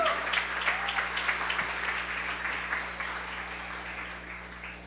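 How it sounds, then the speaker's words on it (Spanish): A congregation applauds during a church service, a fairly soft spread of clapping that fades slightly as it goes, over a low steady hum. "le diera un fuerte aplauso al Rey."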